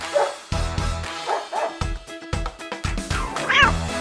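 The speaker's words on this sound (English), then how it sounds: "Dog." A dog barks several times in quick succession, the loud, close barks falling in an uneven rhythm over a steady musical backing.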